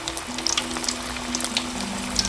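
Traditional Kongu Nadu-style ragi vadai fry in hot oil with a loud, continuous close sizzle, speckled with bright pops and bubbling over a faint steady hum.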